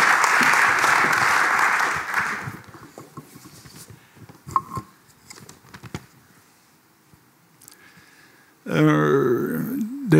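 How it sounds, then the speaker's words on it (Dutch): Audience applause for a presenter at a Dutch urban development event, a burst of clapping that fades within about two seconds, followed by scattered knocks and handling noise, then a nearby voice. "Heel graag een applaus voor u."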